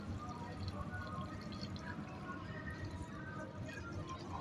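Water is poured onto a newly planted Akbare chili plant in soil, a brief soft splashing and trickling close by, with faint background noise.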